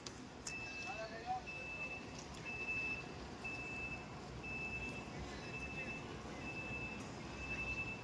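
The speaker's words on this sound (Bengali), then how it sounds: "দেখতে পাচ্ছ আমাদের বাসটা ঘোরানো হচ্ছে" Reversing beeps sound from a Hilli-to-Kolkata luxury bus as it is turned around, a steady series of evenly spaced electronic tones repeating about once a second over rumbling engine and traffic noise, with people talking nearby.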